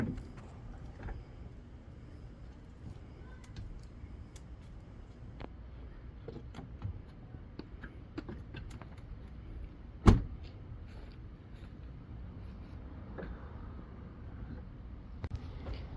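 iBoard power side steps on a 2021-2024 Ford F-150 SuperCrew Cab extend with a faint, low motor whir under steady background hum, broken midway by one sharp door thud.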